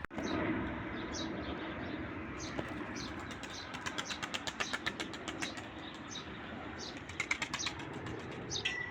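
Roller pigeons beat their wings in flight, with repeated rapid flapping bursts that grow more frequent toward the end over a low outdoor rumble, no talking.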